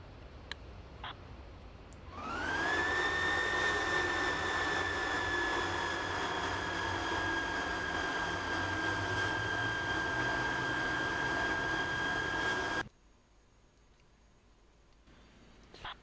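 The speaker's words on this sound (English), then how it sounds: "Engine auto start." Engines of a Lear 45 business jet spooling up in the FSX flight simulator game, a steady loud whine with a rising turbine tone that holds for about ten seconds, then cuts off abruptly to quiet.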